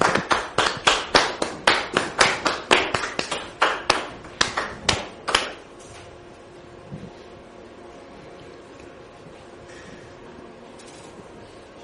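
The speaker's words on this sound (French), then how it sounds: "Merci de les recevoir sous vos applaudissements" A studio audience on a French talk show greets arriving guests with loud, sharp, rhythmic claps, about three per second. The clapping stops abruptly after roughly five seconds, leaving quiet room tone.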